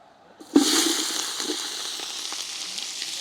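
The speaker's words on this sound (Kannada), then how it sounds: "ಸೊ ಅದಕ್ಕೆ ಈರುಳ್ಳಿ ಫ್ರೈ ಮಾಡ್ಕೋಬೇಕು" Onions drop into hot oil and erupt into a sudden loud hiss, which settles into a steady, close, continuous frying sizzle with a few faint clinks.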